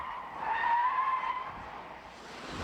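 A Saab 900 Turbo three-door sedan skids during stunt driving, its tires giving a steady mid-pitched squeal that swells and then holds, mixed with engine noise, with no talking.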